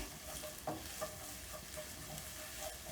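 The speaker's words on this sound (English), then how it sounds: "Then I'll add my onions into my pan. And I'll cook this until soft." Chopped onions for a samosa filling sauté in a pan, a soft continuous sizzle broken by light spatula scrapes and taps as they are stirred. The sound is close and fairly quiet, with no voices.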